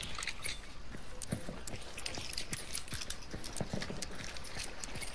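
Hooves clip-clop in a fast, continuous patter as a horse gallops in a video game, with metallic jingling over a steady background hiss.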